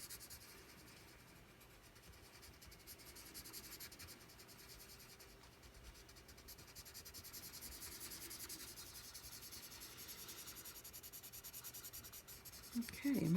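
Pencil and Neocolor II wax-oil crayons scratch and rub steadily across paper while a background is coloured in, a soft continuous close scribbling texture with a brief louder knock at the very end.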